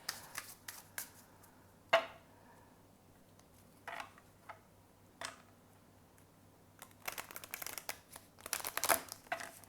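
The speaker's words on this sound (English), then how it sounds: "The cards are nice and slippery in your hand, so it's easy to shuffle." Slippery oracle cards being shuffled in quick bursts of crisp riffling and flapping, separated by short pauses, close and fairly quiet with no talking.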